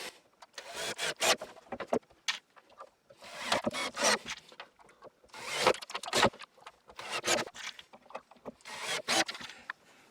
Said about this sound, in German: Und dann schrauben wir einfach mal.